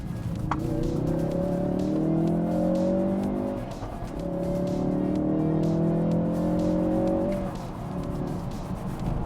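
A 2016 Ford Focus RS engine revs loud and close while downshifting into second through a turn, with two sustained rising engine pulls split by a brief dip as the revs are matched, and no talking.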